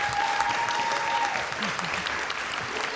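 Audience applause at a food justice conference, steady dense clapping filling the room for the full stretch, with a brief tonal whistle-like hum early on and faint voices underneath.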